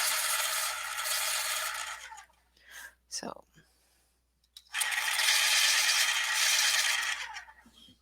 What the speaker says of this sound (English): So we're going to take the greens and we're going to sharpen this one.